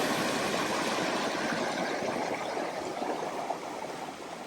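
A small creek in Marysville, Victoria, flows with a steady, even rush of water that holds at a constant level throughout, with no voices.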